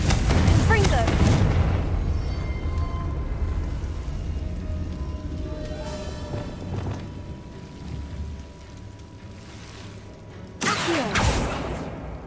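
A Confringo fire spell blast from Hogwarts Legacy, a loud booming burst at the start that rumbles and fades, followed by a second sharp blast near the end, with spoken words over the opening.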